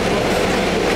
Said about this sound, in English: this is my first time on a bus outside of New York